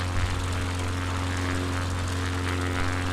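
X Cub light airplane in flight, its propeller engine a loud steady drone with a strong low hum, heard close from inside the cabin and unbroken throughout.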